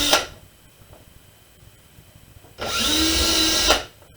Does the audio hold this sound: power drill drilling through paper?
yes